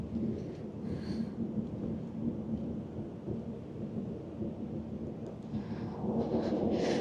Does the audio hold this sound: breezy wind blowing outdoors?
yes